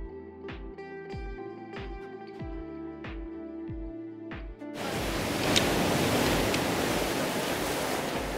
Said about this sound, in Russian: море плещется